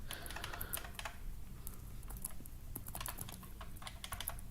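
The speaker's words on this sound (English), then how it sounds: "Yes, I know I have a loud keyboard." Rapid, continuous clacking of a loud mechanical computer keyboard, keys struck in quick irregular bursts close to the listener with no voices.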